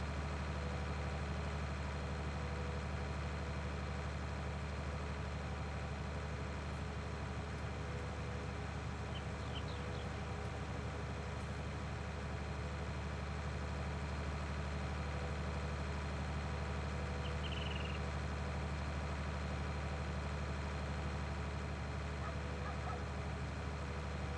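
A tractor engine idles steadily in the Farming Simulator 19 video game on the Ravenport map, a constant low drone running unbroken and alone throughout with faint chirping ambience on top.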